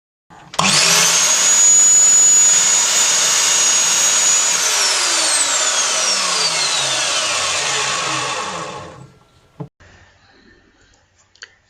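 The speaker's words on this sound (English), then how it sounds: "So I'll just demonstrate a cut on the saw" A Lumberjack SCMS210SB mitre saw spins up with a sharp whine and bites through a piece of hardwood, loud and close for about eight seconds before the motor winds down into silence and a few clicks.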